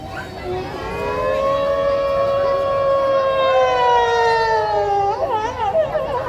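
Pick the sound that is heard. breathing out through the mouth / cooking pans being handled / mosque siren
mosque siren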